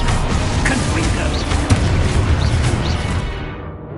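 A Confringo blasting spell bursts with a heavy explosive boom, one of several loud spell effects going off in quick succession, with a sharp impact near the middle before the rumble fades.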